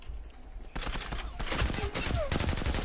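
Rapid automatic gunfire in the video game Zula rattles out in dense, overlapping bursts, loud and close, building into a continuous fusillade.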